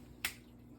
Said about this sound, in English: If you hear me snapping my fingers, it's because my dog is whining.